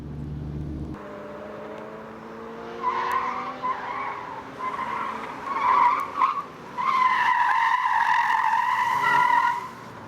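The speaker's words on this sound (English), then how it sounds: "Each time you go around, faster and faster until you induce deliberate understeer." Car tyres squeal on a driving-dynamics training track as the car is pushed into deliberate understeer, a loud wavering screech that swells and dips over several seconds and grows strongest near the end.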